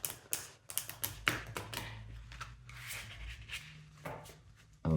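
Tarot cards being shuffled by hand, a close, irregular run of crisp flicks, riffles and taps with short bursts, no speech over it.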